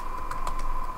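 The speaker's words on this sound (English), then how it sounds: "I'm gonna type in Tommy Fedora version 1" A few quick keystrokes on a computer keyboard tap out close and clear over a constant electronic hum.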